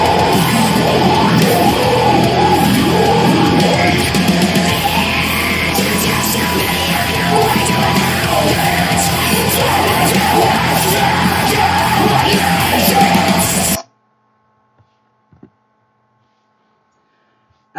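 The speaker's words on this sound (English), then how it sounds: "conjuring the filthiest guttural growls and piercing shrieks possible" Extreme metal vocals shift from deep death metal guttural growls to piercing black metal shrieks, loud and continuous over dense, distorted band music for about fourteen seconds before cutting abruptly to near silence.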